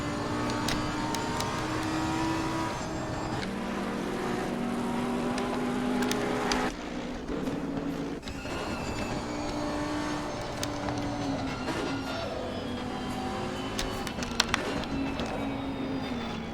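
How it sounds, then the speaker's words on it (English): Onboard a Lamborghini race car in the racing game Assetto Corsa Competizione at Bathurst, the engine screams loudly and continuously, revs climbing and dropping sharply through gear changes. "We're on board with Boersma in the Lamborghini."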